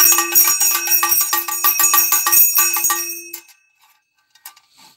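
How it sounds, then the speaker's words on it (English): Three quick bursts of bell ringing at a live auction, a bright repeated dinging that runs loud for about three seconds and then stops, leaving near silence with faint background stirrings. "Time for three bells."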